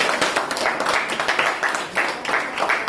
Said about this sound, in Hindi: तो तालियां बजती है, तालियां कभी होनी चाहिए